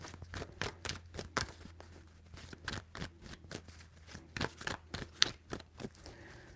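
Tarot cards being shuffled close up, a run of sharp riffling bursts in quick succession with brief gaps, under a low steady hum and no talking.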